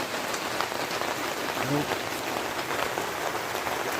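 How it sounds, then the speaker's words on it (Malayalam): Heavy rain pours steadily onto surfaces during an evening in Vellanadu, a dense continuous hiss with no voices. "പക്ഷേ അകത്ത് കയറിയിട്ട് ഭയങ്കര മഴ കേട്ടോ"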